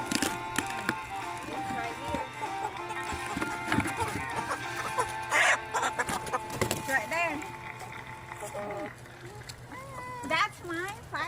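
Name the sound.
chickens clucking on a small farm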